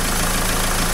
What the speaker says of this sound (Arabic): يعني احس الموتور تم بدا يتغير